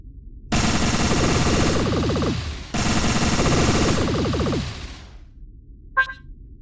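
Spaceship turrets in an alpha build of a space combat game fire in two long rapid bursts, a harsh rattling barrage that cuts in abruptly, then fades into a short electronic blip.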